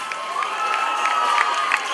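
A crowd cheers and applauds as second prize goes to the Dunav ensemble of the Union of Serbs in Romania, from Svinița, Mehedinți. The dense, steady roar of many voices and clapping continues without a break, with scattered brighter shouts rising above it.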